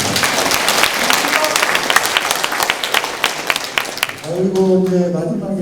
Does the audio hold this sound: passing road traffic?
no